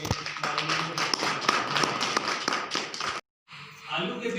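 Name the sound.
audience applause welcoming a guest at a Christmas gathering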